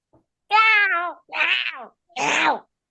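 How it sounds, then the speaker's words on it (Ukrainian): A cat meows three times in a row, each call clear, close and drawn out, with short quiet gaps between them. "Правильно, нявкати."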